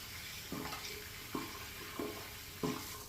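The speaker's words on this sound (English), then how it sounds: "I had to rinse that handle, it was getting a little slick." A safety razor handle is rinsed under a running tap, a steady faint water hiss interrupted by four brief splashy bursts as the handle passes through the stream.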